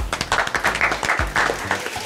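A studio audience gives a thunderous round of applause for a guest on a French business show, dense rapid clapping that stays steady and close throughout, with no voices over it.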